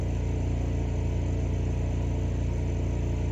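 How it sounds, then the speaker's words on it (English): A generator hums steadily in the background at a camp beside a shed being converted to a house, a constant low engine drone that stays even throughout with no talk over it. "I don't know if you can hear this generator running in the background."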